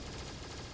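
A Gatling gun tower in the Roblox game Tower Battles fires a rapid, dense burst of shots in a brief, continuous rattle.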